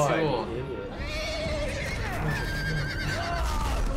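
A horse whinnies loudly in the Game of Thrones Telltale video game during the Red Wedding, its neigh rising and falling over several seconds while people talk excitedly over it.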